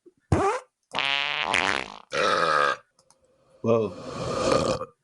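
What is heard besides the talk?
soundboard fart and belch sound effects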